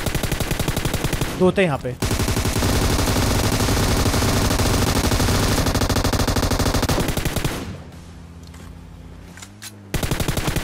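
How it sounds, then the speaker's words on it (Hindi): Rapid, loud gunfire from enemy players in PUBG Mobile, sustained automatic bursts for several seconds before cutting off, with a brief spoken remark at the start. "अब दो बंदे तो यहाँ से फायरिंग कर रहे थे"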